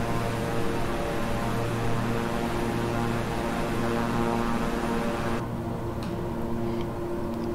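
Inside the cabin of a King Air 350i twin-engine turboprop in Microsoft Flight Simulator, a steady propeller drone with strong tonal hum continues, then the high hiss drops away and the sound turns muffled and quieter.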